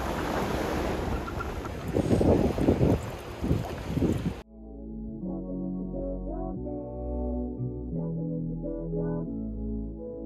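Strong wind buffeting the microphone at a sunny seaside beach, a loud rushing roar with gusts for about four seconds before it cuts to calm background music.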